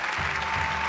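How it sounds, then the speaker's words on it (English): Brief burst of audience applause closing a short online painting class on an Icelandic sunset, dense steady clapping throughout with no voices. "Big round of applause."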